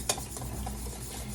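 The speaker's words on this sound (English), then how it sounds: "So you're going to mix this all together and mix it slow" Spicy salmon marinade is stirred slowly in a bowl, giving a soft continuous scraping swirl with one sharp utensil click near the start.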